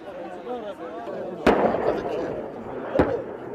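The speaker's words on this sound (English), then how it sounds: "The noise of small arms and heavy weapons cuts through the sky." Two sharp, loud reports from small arms and heavy weapons, about a second and a half apart, crack out over a steady background of talking voices in an urban combat setting.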